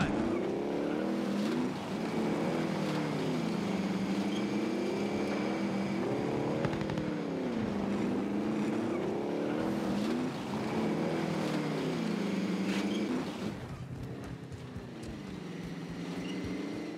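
A vehicle in Call of Duty: Warzone drives steadily, its engine droning with repeated revving swells and gear shifts at moderate loudness, with no speech.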